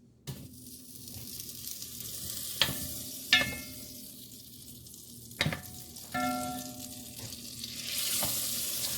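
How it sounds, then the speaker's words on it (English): Unsalted butter hits a hot pot for black-eyed peas and sizzles steadily, with a few sharp metallic clicks and scrapes of a utensil, close and without talk. "go ahead and throw my butter in here"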